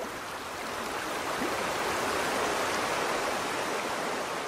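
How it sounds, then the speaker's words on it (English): Fast river rapids give a steady, dense roar of rushing water, loud and unbroken throughout. "and soon they were in rapids."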